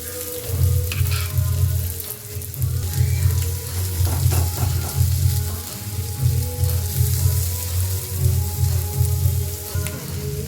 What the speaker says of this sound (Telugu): ఇదైతే మంచి గోల్డెన్ బ్రౌన్ కలర్ వచ్చేంత వరకు అయితే మంచిగా ఫ్రై చేసుకోవాలి